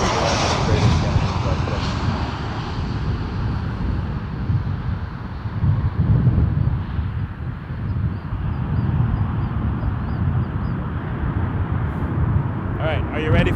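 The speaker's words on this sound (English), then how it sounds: "777-300 ER, Air Canada 857 from London Heathrow. Coming at you." Air Canada Boeing 777-300ER heavy jet on close final to runway 06 right at Toronto Pearson, a steady loud engine roar with wind buffeting throughout, and a voice talking over the noise.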